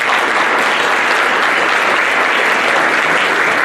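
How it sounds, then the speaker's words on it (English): Loud, dense applause from a crowd fills the room, steady and sustained throughout with no pauses. "So give them a round of applause."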